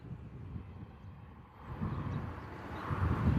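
A helicopter hovers far off near Bristol Airport, a low steady rumbling drone that swells slightly, heard alone with wind and no talk.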